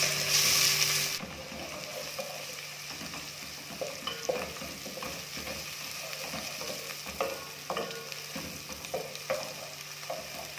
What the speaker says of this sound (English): we are going to start frying the onions